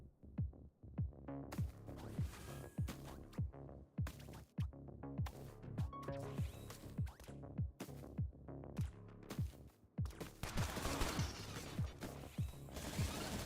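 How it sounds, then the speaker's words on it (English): Minigun rounds firing in the Battle Royale video game Bullet League, a regular series of heavy thumping shots with falling pitch, repeating in steady rhythm and shifting into a denser, noisier stretch toward the end. "those minigun rounds are singing"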